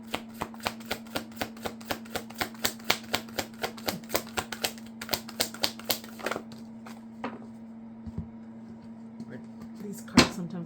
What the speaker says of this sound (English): They're really hard to shuffle.